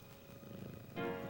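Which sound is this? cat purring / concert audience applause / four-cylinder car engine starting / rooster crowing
cat purring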